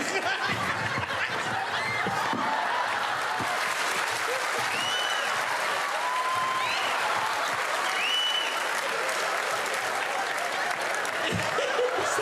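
A French television studio audience applauds as a contortionist is introduced, giving dense, steady clapping that holds at an even level for about twelve seconds, with a few whistles and scattered laughter rising above it.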